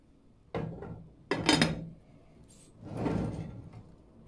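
Lid set onto a pot of bulgur and hot water on a stove, with a couple of sharp metallic clanks and a scraping shuffle, close by with no talk.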